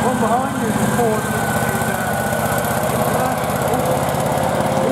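A 1950s–60s Ford tractor engine chugs steadily at idle with a rhythmic low thump and rattle, running close by for the whole stretch at a farm ploughing match.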